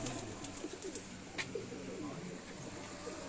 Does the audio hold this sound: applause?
no